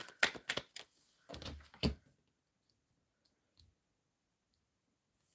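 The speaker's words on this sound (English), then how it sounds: "Shuffling for Naveen and Olastrabona." Tarot cards shuffled by hand in quick papery riffling bursts, two clusters close to the microphone, then near silence with faint ticks.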